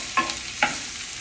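Chicken fajita with garlic powder cooks quietly in a pan, a soft hiss under two brief clicks of a utensil against the pan, close and without voices.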